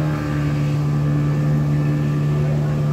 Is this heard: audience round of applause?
no